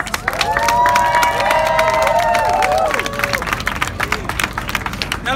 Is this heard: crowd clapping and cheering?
yes